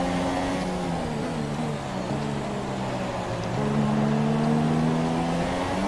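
Formula 1 cars in the video game F1 2017 leaving the pit lane, a steady loud engine drone with shifting pitch and a rise in revs partway through, no talk over it.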